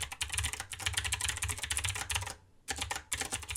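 Fast, close clatter of keys on a computer keyboard as code is typed, dense bursts of clicks with a brief pause near the end before typing resumes.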